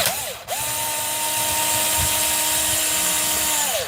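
A power driver backs screws out of a Dewalt tool, with a short whir and pause followed by a long, steady high-pitched spin that winds down at the end, loud and close.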